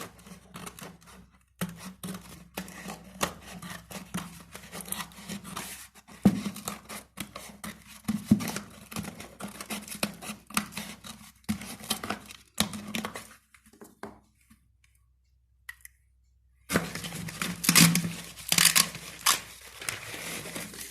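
Scissors snip through paper to cut out a balloon shape for a children's craft activity, giving a run of close, crisp cutting clicks and rustles with a short silent gap before the snipping resumes.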